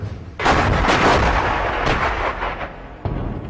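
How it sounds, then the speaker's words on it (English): Artillery fire in a 1942 Stalingrad battle scene: a loud, sustained roar of shelling and gunfire beginning suddenly, with further booms and a fresh blast near the end, no voices. "Right, I see artillery going in now"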